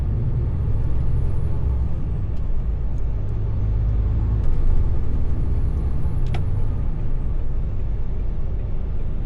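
Trucks passing on the road at night near a delivery depot, a steady loud traffic rumble throughout with a sharp hiss of an air brake release around the middle.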